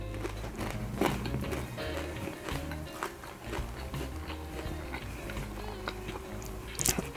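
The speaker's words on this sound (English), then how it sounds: "Nice and crunchy and delicious" Crunchy stove top popcorn being chewed close up, repeated crisp bites and crackly chewing in a quiet room.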